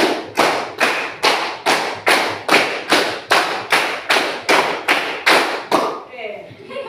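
A classroom group claps out a counted rhythmic pattern, about a dozen loud, evenly spaced sharp bursts in quick succession, then falls quiet.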